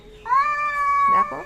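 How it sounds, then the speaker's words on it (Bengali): A pair of big cats squabble nearby with a loud, sustained yowl that swells and holds, then breaks into a couple of shorter choppy wails; a person says a brief word over it. "বিড়ালের ঝগড়া। এই বিড়ালগুলো প্রায় দিন ঝগড়া করে"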